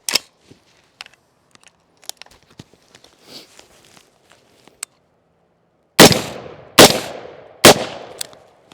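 Three loud rifle shots ring out at a range during an optics drop test, evenly spaced about a second apart, each with a sharp crack and decaying echo, after a quiet stretch of faint ticks and handling noises.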